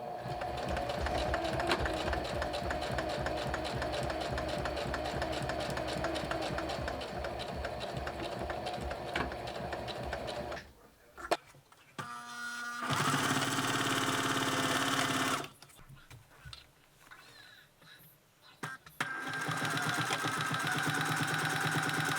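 A home sewing machine runs steadily and close up, stitching a seam in a beginner's project with a fast mechanical whir. The machine pauses several times, with short stops and restarts between stretches of stitching.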